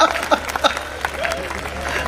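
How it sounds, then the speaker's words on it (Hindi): Brief scattered clapping from an audience at a live political satire performance, with a few sharp claps rising under a voice that keeps talking. "और अब आपकी तालियां उठेंगी"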